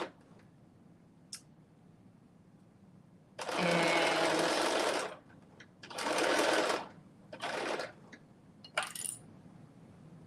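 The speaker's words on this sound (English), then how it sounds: "I'm taking those two front pieces of the pants and I am stitching them together" Sewing machine stitching two curved front pieces of McCall's M8208 pants together, running in several close bursts of varying length with quiet pauses between and faint small clicks.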